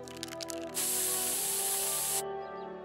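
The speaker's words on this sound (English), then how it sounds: "I will pepper spray you back to the Stone Age." Pepper spray from South Park: The Stick of Truth fires as a single loud, sustained hiss of about a second and a half, set over a steady game music bed.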